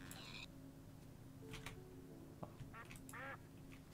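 A Minecraft duck quacks in short nasal bursts, a few spaced calls standing out over a steady low game background hum.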